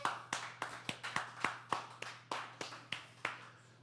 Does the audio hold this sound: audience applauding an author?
yes